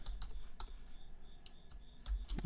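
Typing on a computer keyboard, a handful of light, quick key clicks in an uneven rhythm, close and fairly quiet against a soft background hum.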